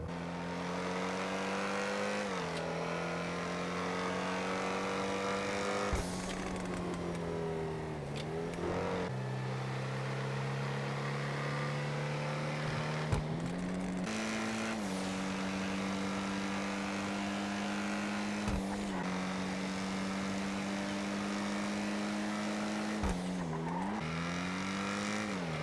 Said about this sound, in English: I am now going to show a lot of cars that do sound very similar to the XA21